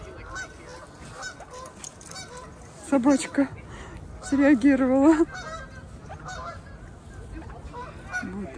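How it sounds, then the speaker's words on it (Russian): Canada geese honk in two loud bursts of harsh, repeated calls by a pond at Arnold Arboretum, the second longer, amid quieter background noise and a brief spoken remark. "Это гуси канадские."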